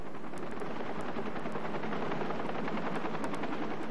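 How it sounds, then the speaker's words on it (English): An Army helicopter roars close by during a cave rescue, its rotor chop pulsing rapidly and steadily through a thick wash of engine noise. "they call for an Army helicopter"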